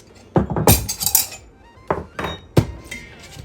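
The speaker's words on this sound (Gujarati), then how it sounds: "તો અહીં મેં લસણની કળી લીધી છે, 10 થી 12 હશે, હું ખાયણી દસ્તામાં લઈ લઈશ" Ten to twelve garlic cloves pounded in a mortar and pestle, heard as a few sharp, irregular thunks close by with short pauses between strikes.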